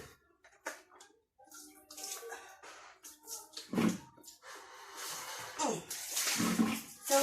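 Water splashes and pours in uneven bursts as someone bathes from a basin, with scattered drips and brief voice sounds mixed in, fairly close and moderately loud.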